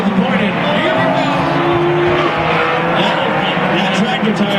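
Race cars roar through a figure-eight demolition derby at Irwindale Speedway, a dense, loud engine drone with tire squeal, while an announcer talks over the racing.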